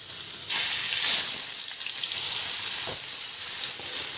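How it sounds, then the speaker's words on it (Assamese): Pomfret fish fries in oil in a frying pan, a loud, close, steady sizzle that swells and settles with a few brief surges of spitting. "ইফালে মাছ ফ্ৰাই কৰো"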